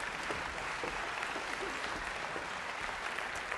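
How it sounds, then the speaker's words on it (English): A keynote audience breaks into steady, dense clapping that continues evenly throughout without any pause. "Let's give them a big round of applause"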